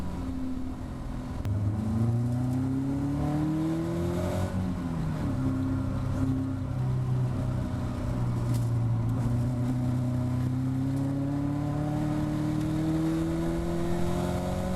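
Caterham race car at Thruxton pulling away behind the safety car, its engine droning steadily with rising and falling pitch as it accelerates through the gears, heard alone for a sustained stretch.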